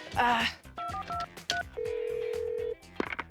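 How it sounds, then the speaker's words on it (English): A quick run of telephone keypad beeps followed by a longer steady tone, mixed with talking and music. "let's get Darren on the phone for those."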